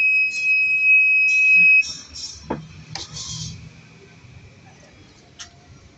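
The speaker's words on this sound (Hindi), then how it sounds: "ये साइड स्टैंड की आवाज़ है।" An electric scooter's side stand warning buzzer, on a Bajaj Kristal converted to electric, sounds steady and shrill continuously for about two seconds and then cuts off, leaving a few soft clicks and quiet background noise.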